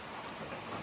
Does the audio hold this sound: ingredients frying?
no